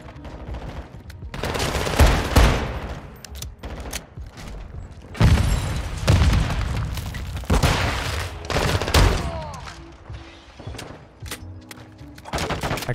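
Lockwood 300 shotgun blasts in Modern Warfare 2, heavy booming shots spaced a few seconds apart and loud in the foreground, with other gunfire and action noise between them.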